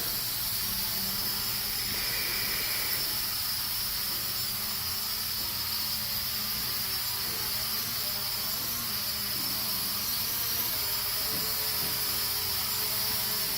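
A Hubsan 502E quadcopter drone flies in steady wind, giving a continuous whirring rotor buzz with broad airy hiss, fairly constant in level and alone without talk.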